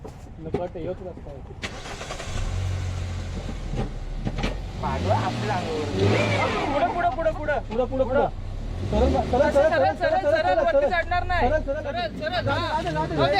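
A car engine starts and revs lightly on a rural road trip near a dam, rising and falling in short bursts up close, with people talking over it throughout.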